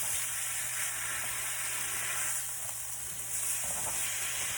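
Turkey patties sauté in a hot pan, giving off a steady, close sizzle with a bright hissing texture and occasional soft crackles, continuous throughout with no voices.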